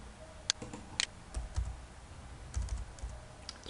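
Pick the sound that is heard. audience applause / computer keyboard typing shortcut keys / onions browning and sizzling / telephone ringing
computer keyboard typing shortcut keys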